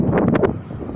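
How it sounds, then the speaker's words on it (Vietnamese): Wind whistling and rushing over a ship on a calm sea, a loud, steady gusty roar with a few brief brighter whistling bursts, heard up close to the microphone. "Gió thì vẫn rít, mát lắm"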